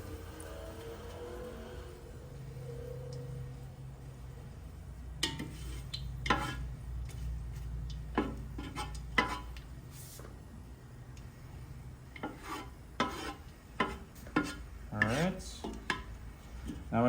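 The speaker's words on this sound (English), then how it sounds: "Let that cook up a bit." Carapuli leaves cook in a pot with a low sizzle, then a spoon stirs and scrapes against the metal in a series of irregular clinks and knocks, close and fairly quiet.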